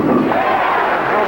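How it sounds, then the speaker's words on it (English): Capacity crowd at a Professional Bowlers Tour championship match roaring and chanting for bowler Pete McCordick, a dense sustained wall of many voices shouting together throughout. "they're shouting Pete here. Capacity crowd."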